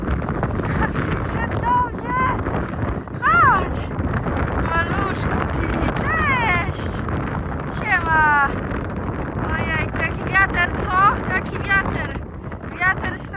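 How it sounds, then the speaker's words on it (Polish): Strong wind buffets a microphone outdoors at a stable, a constant low rumbling roar with gusty swells, while people talk over it throughout. "straszny, okropny wiatr"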